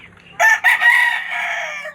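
A rooster crows once, loud and close, a drawn-out call that breaks into a long sustained note before trailing off.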